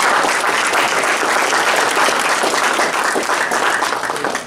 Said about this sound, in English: I'd like a big round of applause for Sprint.